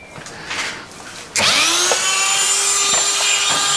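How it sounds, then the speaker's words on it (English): A Dremel rotary tool spins up abruptly and whines loudly and steadily while buffing metal on a Yamaha FZ6 motorcycle, close by and shrill, its pitch dipping slightly as it bites. "So I've got a nice wee end for my Dremel,"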